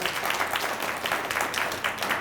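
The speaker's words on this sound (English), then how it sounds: "Let's give her a round of applause." Dense, steady applause from a town hall meeting crowd, many hands clapping at once without a break for the whole stretch.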